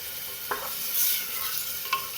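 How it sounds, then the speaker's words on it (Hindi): Vegetables with cucumber sautéing in a pan for sambhar, a quiet steady sizzle with two brief scrapes of a spoon stirring, heard close up. "इसको अच्छी तरीके से सौते कर लीजिए, बहुत ज़्यादा इसको जलाने की ज़रूरत नहीं है।"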